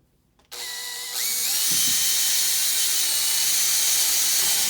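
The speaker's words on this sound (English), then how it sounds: "we're going to drill 2 number 40 holes in each piece here" A small power drill bores number 40 holes in parts for an E-flite 90mm Viper jet turbine conversion: a sudden start, then a rising, steady high-pitched whine that stays loud and close.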